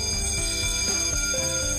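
A building's emergency evacuation alarm bell rings in a seventeenth-floor auditorium, a steady, sustained electronic tone with no break and no talk over it.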